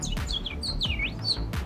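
A human voice imitates bird chirping, producing a run of bright, whistled tweets and warbling trills that rise and dip in quick succession, close and clear with no other sound.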